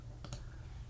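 A couple of quick clicks on a computer keyboard, faint and close together, over a low steady background hum.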